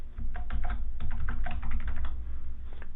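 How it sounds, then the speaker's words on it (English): Rapid, close clatter of keystrokes on a computer keyboard as a command is typed on an Ubuntu machine, a dense irregular burst with brief pauses. "I'm going to type in"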